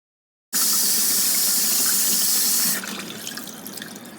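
Hot tap water gushes loudly over an ice-encased Olight X7 Marauder flashlight. It starts abruptly after a moment of silence, runs steadily and close, then drops to a softer, splashier flow near the end.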